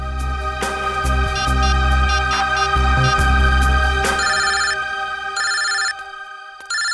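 A telephone rings with a repeating electronic ringtone, loud and close, in a tense household scene from a CID crime drama episode; no one speaks over it.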